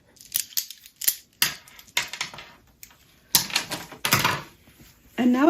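Scissors snip through a fabric strip at a sewing table, a run of sharp crisp cuts coming in uneven bursts, close and fairly loud, with a brief squeak near the end.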